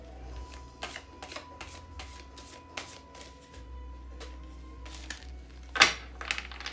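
Moon oracle cards are shuffled by hand in a run of crisp, regular riffling flicks, close and fairly quiet, ending in one louder snap as the deck settles. No one speaks.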